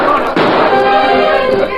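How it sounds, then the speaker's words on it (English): A single sharp gunshot cracks out early in woods, followed by a lingering rumbling echo in the open air. "Shots rang through the woods"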